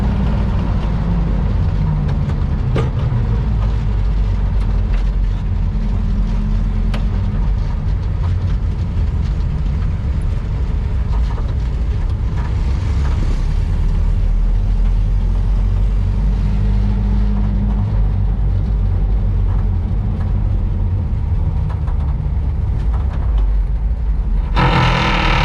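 Steady drone of a VW Baja engine on its first drive, a continuous low rumble with road and wind noise throughout, loud and constant with no talking.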